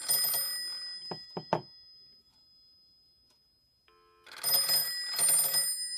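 Western Electric 302 telephone on a PBX callback, sounding three short, sharp bell bursts with clear gaps between them, then two longer, louder ringing bursts after a pause, heard alone with no talk.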